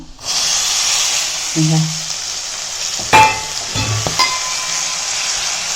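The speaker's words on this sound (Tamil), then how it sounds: "சுண்டைக்காயை போட்டு நல்லா வதக்கிக்கலாம்" Green turkey berries sautéing in oil with mustard seeds for a pickle, a strong steady sizzle with sharp crackles and scraping stirs, brief voice-like sounds breaking through.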